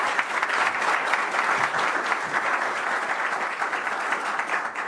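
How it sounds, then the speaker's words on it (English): Audience applause welcoming Prime Minister Albin Kurti of Kosovo at a Davos event, a dense, sustained round of clapping from a large crowd, loud and even for the whole stretch with no speech. "So a round of applause,"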